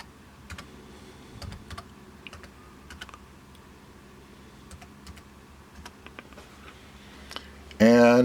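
Someone types an ID and password on a computer keyboard: scattered, close key clicks come in uneven bursts over a quiet room, and a louder sound cuts in right at the end.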